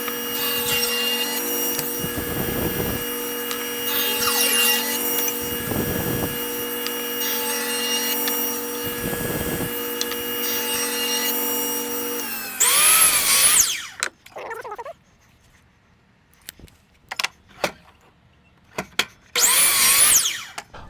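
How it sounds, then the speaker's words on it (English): Milled cherry lumber is cut into side panels for an end table by a loud power saw that drones for several seconds with repeated cutting surges, then stops and gives way to short bursts of tool noise in a workshop. "we're going to cut those out of this piece of lumber that we have right in here that we've already milled"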